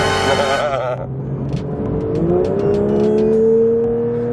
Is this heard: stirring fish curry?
no